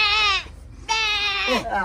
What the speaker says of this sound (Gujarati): હવે બકરી આવી બે કરે